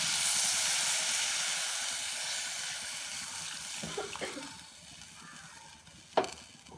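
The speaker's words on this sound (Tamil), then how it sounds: "இப்போ நான் வந்து பால் விட போகிறேன்." Milk pours into a pan of frying shark fish curry, cooked Jaffna style. A steady sizzling hiss dominates at first, then softens. A few gentle bubbling pops follow, and a short clatter of a utensil comes near the end.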